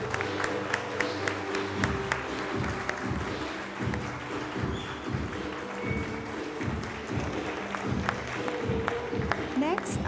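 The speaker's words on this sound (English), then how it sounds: "Let's give them a warm round of applause." An audience at a Sri Lankan cultural night applauds performers, a moderate round of clapping from a seated crowd heard at a distance, with voices murmuring underneath.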